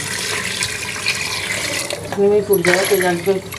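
Water splashes and gurgles as it is poured into a metal pressure cooker, filling steadily up close with a rising pitch toward the end.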